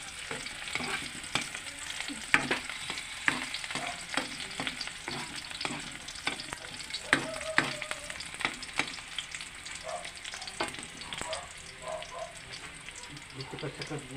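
Ginger and garlic sauté in a pan as the base for a crab dish, a close steady sizzle broken by frequent sharp clacks of stirring, with faint talk at moments.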